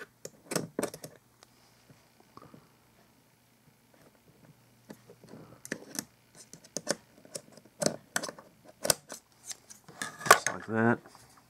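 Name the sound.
scissors trimming cotton wicks on a Taifun GT2 RTA clone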